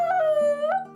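A dog lets out a single drawn-out, high-pitched whimper that rises into a brief whine, close and clear.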